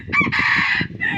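A rooster crows once, close and loud, in a short, strained call.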